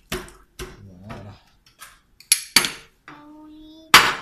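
Spoon scraping and clinking against a bowl while fish terrine ingredients with lemon juice are stirred together, in short bursts of clatter between pauses, close and fairly loud, with a sustained tone near the end.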